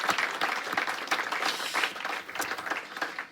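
Dense applause from a church congregation, a continuous wash of many overlapping hand claps that stays steady and fairly close throughout, with no clear speech above it.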